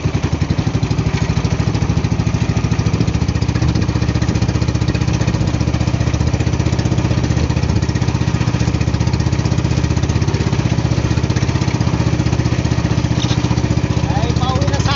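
A faulty boat engine at sea runs with a steady, loud, rough mechanical chug that stays unbroken for the whole stretch, while people talk intermittently over it.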